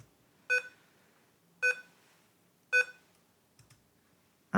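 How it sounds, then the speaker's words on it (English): Archcraft Linux boot chime on first boot: three identical, clear electronic beeps spaced about a second apart, followed by a couple of faint clicks in otherwise quiet surroundings. "this one beeps when you first boot into it"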